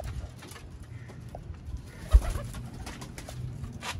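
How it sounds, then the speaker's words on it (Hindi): Chapray pigeons coo softly in a loft, low murmuring calls repeating at close range over a faint background, with one brief bump partway through. "चपड़े कबूतर आपकी स्क्रीन पर।"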